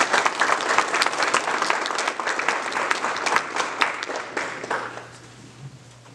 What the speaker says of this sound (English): let's give members of the Gay City High School girls basketball team a round of applause.